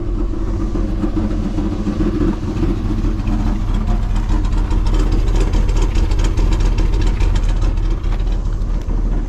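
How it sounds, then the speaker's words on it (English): A rebuilt Chevrolet LS 6.0 LQ4 V8 with a light cam idles steadily at close range for a 1986 Suburban C20, giving a loud, continuous rumble with a slightly lumpy, pulsing beat and no speech. "Oh yeah, you can hear the cam."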